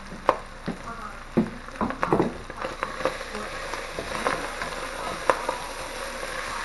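Meat mixture for Philly cheese steak style sloppy joes sizzling in a pan on the stove as a slurry is stirred in, a soft steady frying hiss broken by scattered sharp clicks and scrapes of the spoon.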